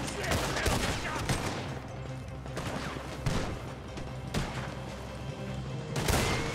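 Rapid gunfire from a firefight in Red Dead Redemption 2, a dense barrage of overlapping shots with sharp bursts throughout, with a voice speaking over the shooting.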